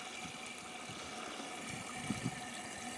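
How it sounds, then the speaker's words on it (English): A water ram pump runs with a steady watery hiss, and two soft low thumps of water hammer land close together near the end. "the water hammer effect and the pulse of this pump comes 80 feet back up this 1-inch line"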